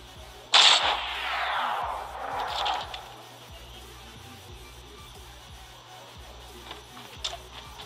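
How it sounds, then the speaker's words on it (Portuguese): A bazooka fires in the mobile shooter game Fortcraft: one sharp, loud blast that trails off into a long hissing rumble over about two seconds. A fainter burst follows, then quiet game background. "Vamos tentar de bazuca."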